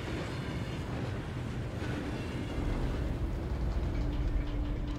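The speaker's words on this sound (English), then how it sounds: "Can I drive the train going back?" Steady rumble of a train ride in the Hogwarts Legacy video game, a continuous low rolling drone with rattling texture and a faint tonal hum, swelling slightly louder midway and holding at an even level throughout.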